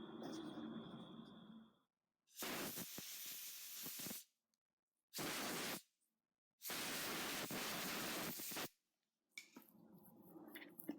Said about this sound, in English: I'm going to take this to an air compressor. I'm going to blow all the crap out.